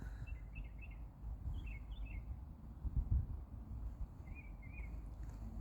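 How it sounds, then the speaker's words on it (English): Outdoor birdsong from an American robin and a chipping sparrow: several short, faint warbled phrases come and go at moderate distance over low rumbling background noise, with no talking. "Robin, chipping sparrow."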